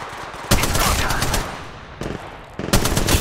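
Rapid bursts of automatic gunfire in the mobile battle royale game Apex Legends Mobile, loud and close, with two brief pauses between sustained volleys.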